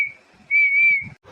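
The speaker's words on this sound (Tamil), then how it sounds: "அட, இது என்ன விசில் சவுண்டு?" Someone whistles a steady, piercing tone that drops briefly, then returns for a longer sustained note. It is fairly loud and close, with quiet shuffling noises in between.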